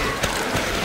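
Weapon reload in Left 4 Dead 2: two quick mechanical clicks, about a third of a second apart, sound close and moderately loud over steady game background noise.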